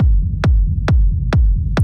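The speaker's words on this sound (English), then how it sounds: "Techno rumbles are an essential part of the genre, and they are the thing that fills up the space between kick drums." Intermediate-level techno rumble synth bass: a deep, continuous low-end throb swelling between four evenly spaced kick drum hits, each thump sweeping downward, loud and steady with no voices.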